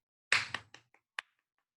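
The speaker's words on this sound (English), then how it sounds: "I'm going to clap it." Hand claps beating out a sixteenth-note rhythm: about five sharp, close claps in a short uneven burst, the first ones loudest, with nothing else underneath.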